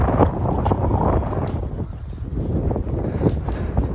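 Outdoor wind blowing and buffeting the microphone, a steady loud low rumble with gusty surges throughout.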